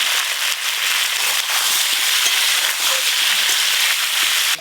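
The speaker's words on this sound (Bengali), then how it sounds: "প্রথমে মাংসের জন্য আলুগুলো ভালো করে ভেজে নেব।" Potatoes frying in hot oil for a meat dish, a dense steady sizzle and crackle close up, loud and continuous with no talking.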